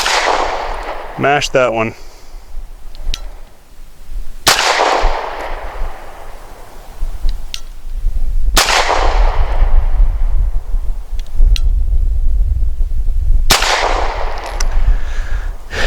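A Walther P5 pistol fires four loud, sharp single-action shots spaced several seconds apart, each with a ringing outdoor echo tail, and a person speaks briefly between them.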